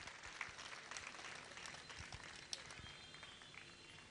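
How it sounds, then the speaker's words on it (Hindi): Audience clapping at a Hindu-Jain religious discourse gathering, a dense, steady spatter of many hands filling the hall for the full stretch, fairly faint and distant. "तालियां तालियां तालियां इनके लिए"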